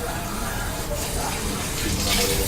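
Water runs steadily from a tap or shower head while hair and a beard are rinsed by hand, a close, continuous splashing wash with no pauses.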